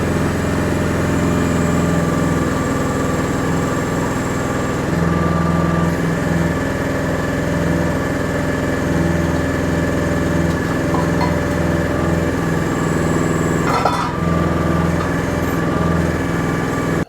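Engine of a Chinese mini excavator running at a steady, continuous drone close by, with a constant harmonic hum and no talk over it, a brief clatter of machinery around the fourteen-second mark.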